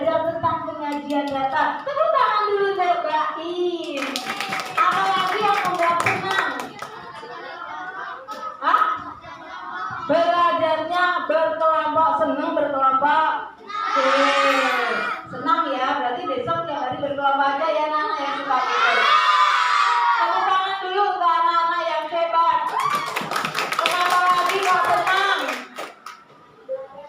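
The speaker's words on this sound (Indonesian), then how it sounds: "Tepuk tangan dulu cobain." Third-grade schoolchildren in a primary school maths class clap their hands in several short bursts, mixed with children's chatter, giggles and a teacher's voice talking throughout.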